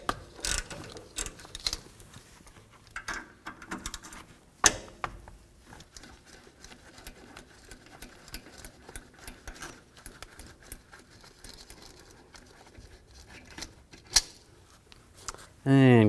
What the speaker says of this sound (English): Now we're going to take the brake caliper off, use a 12mm socket,